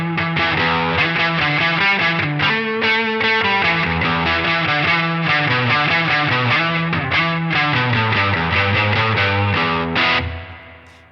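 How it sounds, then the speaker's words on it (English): Electric guitar through a Proco Lil' Rat overdrive distortion pedal plays a loud, continuous overdriven riff with sustained chords and melodic movement, ringing out and fading at the end. "Let's bring the distortion down and tweak the volume a little bit so it's more like"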